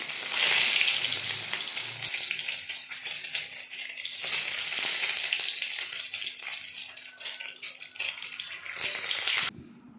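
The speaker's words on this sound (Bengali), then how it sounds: "তেলটিকে ভালো করে গরম করে নাড়াচাড়া করে নিয়ে ডিমগুলোকে আস্তে আস্তে করে দিয়ে ভেজে নেব" Eggs fry in hot oil in a wok with a loud, bubbling sizzle that is strongest at the start and holds steady until it cuts off near the end.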